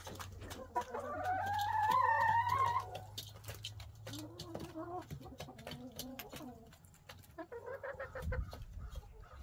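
Backyard hens cluck near a nesting box, a drawn-out rising squawk followed by softer broken clucks at close range, with a low steady hum underneath.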